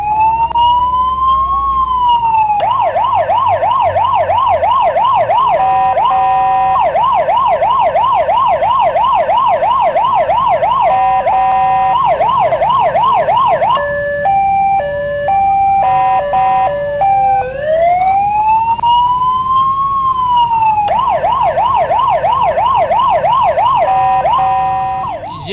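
An ambulance siren wails loudly and close as the ambulance pulls out into city traffic, cycling between rapid yelping warbles, steady two-tone stretches and slow rising and falling sweeps, with no voices over it.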